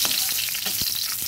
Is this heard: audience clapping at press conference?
no